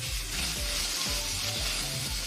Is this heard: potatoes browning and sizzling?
yes